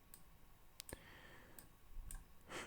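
Mouse clicks while selecting in Photoshop, a handful of faint, sharp single clicks spread irregularly over a quiet background.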